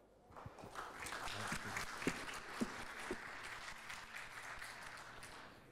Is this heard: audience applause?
yes